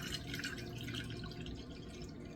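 Cup of water poured into a bowl of boxed cake mix at home, a steady continuous splashing trickle lasting a couple of seconds, close and moderately loud.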